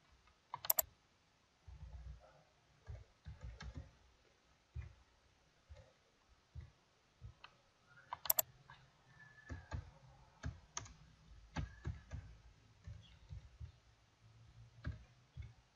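Quiet, scattered keystrokes and mouse clicks on a computer keyboard as a new record is entered into an Access form, coming in short irregular bursts with gaps, close and soft.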